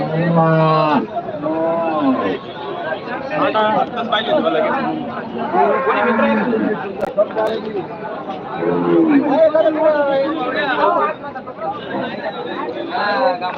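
Cattle lowing repeatedly at the Chalisgaon bullock market, several deep moos rising over a constant hubbub of people chattering nearby.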